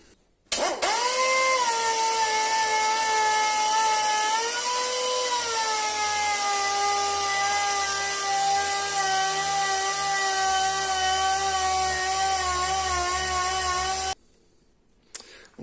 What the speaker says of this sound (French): je vais essayer de prendre un peu la machine, ma petite ponceuse de pneumatique là, pour poncer un peu plus.